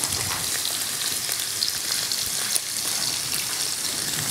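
Endives sizzle in melted butter in a hot frying pan, giving a steady, dense crackling hiss that holds evenly from start to finish with no voices.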